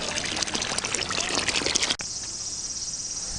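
Water trickles and pours in a water-cooled refrigerator that holds cucumbers, a busy close splashing that cuts off abruptly into a steady thin hiss.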